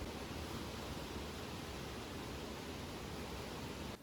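A constant, dense roar of rushing water, like a waterfall heard up close, steady and unbroken until it drops slightly at the end.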